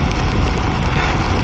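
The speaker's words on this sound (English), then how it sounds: "the rain is just pouring" Dense, steady hiss of heavy rain pouring down, loud and close, with no voices.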